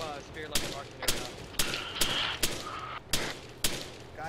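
Rapid gunfire in the military shooter game Arma 3, sharp loud shots cracking out about every half second in a steady irregular string, with voices faintly audible in the background.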